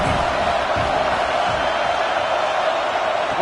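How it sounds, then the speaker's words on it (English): A home crowd at a football game roars loudly and continuously, a dense, sustained wall of cheering and shouting with no break across the whole stretch. "how nice is it to have the home crowd going absolutely bananas?"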